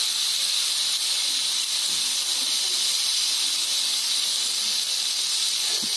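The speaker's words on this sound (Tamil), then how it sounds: "இப்போ தக்காளி ஆட் பண்ண போறோம்" Tomatoes sizzle in a pan while onion chutney is cooked, giving a loud, steady, close hiss that continues unbroken throughout.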